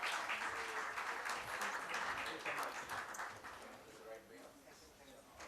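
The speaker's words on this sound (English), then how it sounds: "Can we have a huge round of applause, everyone?" Audience applause at an Indian CSR awards ceremony, a broad wash of clapping that holds steady and then eases slightly toward the end, with a murmur of voices mixed in.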